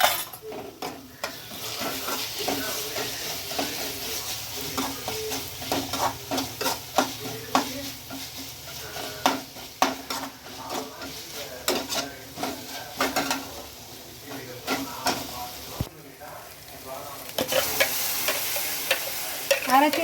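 Ginger garlic paste frying and being stirred in a pan for a road-side kadai masala, with steady sizzling and repeated scraping, clinking strokes of a spoon against the metal, close and fairly loud with no talking.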